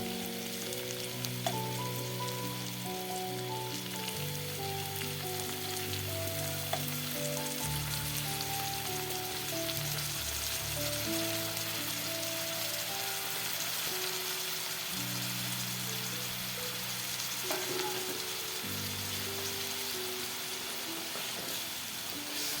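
Shrimp frying in a pan with onion and green chilli, giving a steady, close sizzle with a soft rain-like crackle that holds evenly throughout, backed by a tonal musical layer and no voices.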